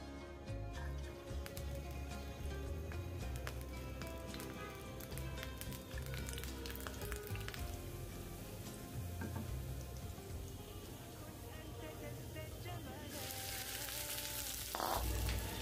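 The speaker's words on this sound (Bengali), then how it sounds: "রসুনটা একটু হালকা ভেজে তো এখন আমি ঢেঁড়সগুলো দিয়ে দিয়েছি" Freshly chopped garlic fries in oil before okra goes in, making a steady close sizzle with clinks and scrapes running throughout and a brief louder rush near the end.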